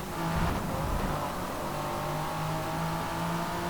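A race car engine in Forza Motorsport 6 drones steadily at high revs, a loud continuous engine note with no talk over it.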